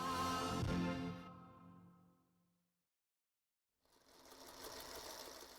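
Singer Featherweight Portable sewing machine running with a steady close mechanical whir, winding down into silence before another burst of noise starts.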